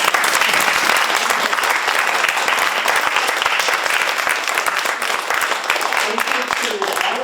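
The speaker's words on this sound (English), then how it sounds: "All righty, now we can all applaud." A room full of attendees at a League of Women Voters candidates forum claps steadily for the candidates, a dense continuous round of applause with a voice faintly speaking under it near the end.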